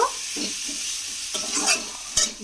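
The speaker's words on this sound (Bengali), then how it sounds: "চিনিটা দিয়েও আমি মিশিয়ে নিলাম" Spoon stirring a fried spice masala with sugar in a pan for a Bengali lentil-and-egg curry, a steady hiss under several dull scraping strokes, close and moderately loud, no voices.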